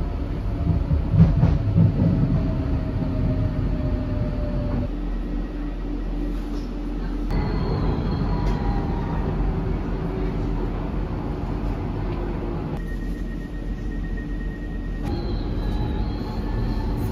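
A London train rumbles steadily with a loud, continuous low roar, punctuated by occasional squeals and tonal whines as carriages move, a long unbroken ride heard from inside.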